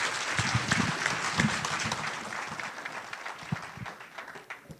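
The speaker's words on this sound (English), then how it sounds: "So please give a round of applause" Applause from a town hall audience in a neighborhood meeting room, many hands clapping loudly at first, then gradually thinning into scattered, sharper individual claps as it fades.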